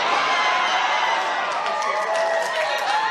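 A convention crowd at a fursuit dance competition keeps up a steady roar of cheering and shouting, dense and loud throughout, with a few sharper whoops rising near the end.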